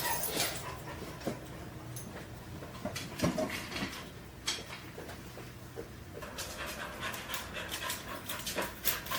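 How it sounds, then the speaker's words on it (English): A female dog pants rapidly and continuously after being left in a hot vehicle, a close breathy rhythm broken by a few soft whimpers and small knocks. "Do you mind if I go get my dog? Because she's kind of dying in there."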